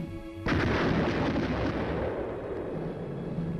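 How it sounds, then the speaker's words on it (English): Artillery fires during a Korean War–era combat training exercise, with one heavy boom that rolls into a long, loud rumbling echo. Older film-style noise sits underneath. "Fighting with artillery and tank support"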